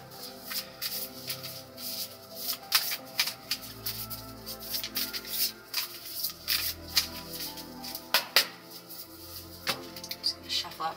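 Tarot cards are shuffled by hand close up, giving a run of quick papery flicks and riffles in irregular bursts. Faint background tones sit underneath.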